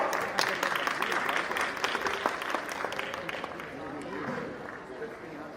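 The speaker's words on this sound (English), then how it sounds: "Please a last huge round of applause for all the winners." Audience applause fills a hall at an annual school prize distribution function for the winners, dense steady clapping from a large crowd lasting several seconds, loud and then gradually thinning, with a voice over the clapping.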